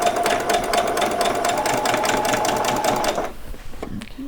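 Sewing machine stitching a doll's saree, a loud, fast, even needle chatter with a motor hum running for about three seconds, then stopping, followed by faint handling noises.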